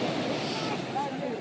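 Sea waves washing onto a beach at Mdiq at night, a soft continuous surf wash with light wind noise over the microphone, distant and fairly faint.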